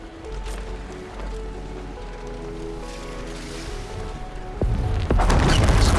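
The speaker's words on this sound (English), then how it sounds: "Time to drop that bomb." Bomb blast in Horizon Forbidden West, heard as a sudden loud burst near the end after a low droning ambient stretch, its roar sustaining and filling the last second.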